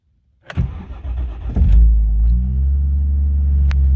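A car engine cranks on a very cold day, catches after a brief churn, then settles into a steady, loud idle rumble close by.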